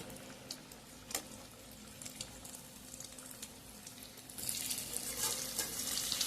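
Khesari and chola dal dhoka frying in a pan, a soft steady sizzle with light scraping as pieces are turned, growing brighter and louder toward the end.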